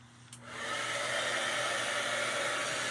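A handheld dryer blows hot air over paint on a metal surface between coats, starting after a brief click and holding a steady, loud, close whooshing roar with a low electric hum underneath.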